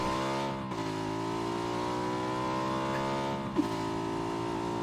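A car engine in the battle royale game PUBG drones steadily while driving, a close, continuous hum that dips briefly around two points and carries a short knock near the end, with no talking.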